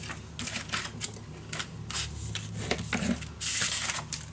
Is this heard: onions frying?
no